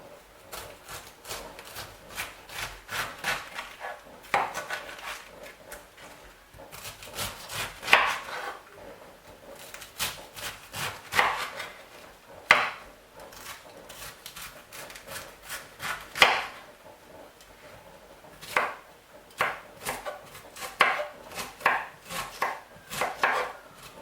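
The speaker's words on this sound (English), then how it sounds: "We're going to start with our red cabbage. Chop everything down." A knife chops red cabbage on a board in steady, rapid bursts of sharp thuds with short pauses between runs, close and clear with no talk.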